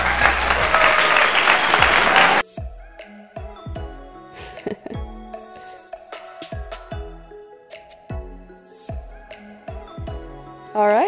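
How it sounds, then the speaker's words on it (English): A loud burst of applause and cheering from a crowd greets a beatboxing performance at the Butter Barn in Fortnite. It cuts off abruptly after about two seconds into sparse, punchy rhythmic beats and tonal game sounds. "Let's give her a round of applause"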